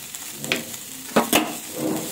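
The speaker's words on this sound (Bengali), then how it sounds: "এভাবে একটু নাড়াচাড়া করে এরপর আমি পোস্তটা দিয়ে দেবো।" Poppy seeds and drumstick flowers frying and being stirred in a pan for a Bengali sajne phool chochchori, a steady soft sizzle with a few sharper scraping strokes near the middle.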